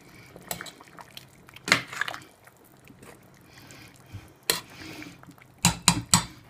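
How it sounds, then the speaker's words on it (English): A spoon scraping and knocking around a pot of home-style chicken curry after long simmering, with scattered clinks and a cluster of sharper metallic taps near the end. "just give it a little bit of a stir"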